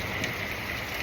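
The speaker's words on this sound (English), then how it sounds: "Well, it's storming," Steady rain falling during a storm makes a dense, even hiss of drops on surfaces close by, with no voices over it.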